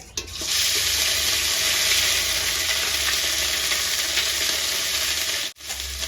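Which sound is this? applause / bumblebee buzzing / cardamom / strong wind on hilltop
cardamom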